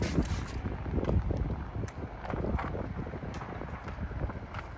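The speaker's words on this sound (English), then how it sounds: "Kind of windy out here." Strong gusts buffet the microphone, producing a loud, continuous low rumble with irregular bursts and flutters, no voices present.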